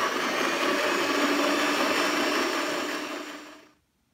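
An electric hand mixer whips egg whites into foam with a steady, loud whirring drone that runs for several seconds, then spins down and stops.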